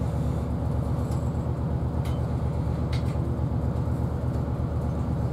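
A CrossCountry Class 221 diesel train running from Reading toward Manchester Piccadilly, heard as a steady, continuous low rumble with rhythmic rolling and light rattles, with no talking.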